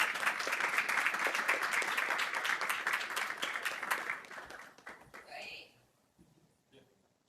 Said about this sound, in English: a round of applause as we celebrate his service to Alhambra